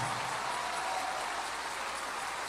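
A church congregation applauds together in steady, dense clapping that fills the space evenly, heard alone with no talk over it.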